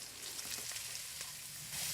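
Onions sauteing and being stirred in a pan with mustard and cumin seeds for dal fry, a faint, steady hiss with a few soft crackles, no speech.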